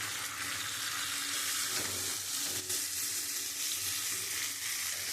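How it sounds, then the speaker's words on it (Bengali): Goat meat sautéing in a pan with tomato added, giving a steady, close sizzle and frying hiss with faint stirring scrapes throughout, and no talk. "আমার মাংসটা কষানো হয়ে গেছে।"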